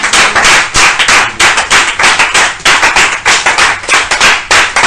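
A church congregation claps loudly and close in a fast, rhythmic unison beat, many hands striking together in repeated bursts without pause.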